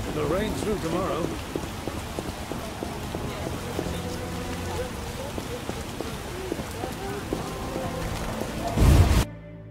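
Steady rainfall patters throughout with dense dripping in The Witcher Enhanced Edition, while occasional voices and soft musical tones sit in the background; a brief louder thump near the end.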